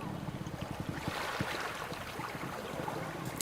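Oars dipping into water and water sloshing against the side of a rowed boat, a steady series of soft splashes and knocks over a constant wash of water and wind noise.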